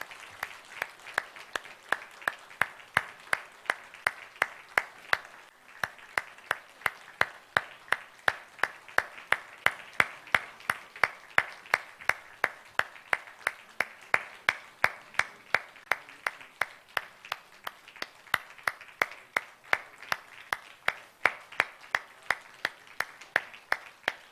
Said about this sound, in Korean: 우리 내려가실 때까지 박수 계속 쳐주시기 부탁드리겠습니다